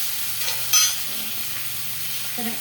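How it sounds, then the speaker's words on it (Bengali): Washed mixed vegetables, bitter gourd, potato and jackfruit seeds, frying in hot oil seasoned with five-spice and bay leaves: an even, close hiss of frying with a couple of soft clinks, no speech. "আমি এই যে ধুয়ে রাখা সমস্ত সবজিটা ঢেলে দিচ্ছি"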